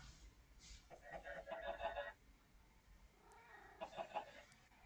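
Two cats in a Minecraft-style survival server meowing in drawn-out, wavering calls, one around the middle and another near the end, faint and close with no talk.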